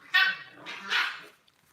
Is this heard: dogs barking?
yes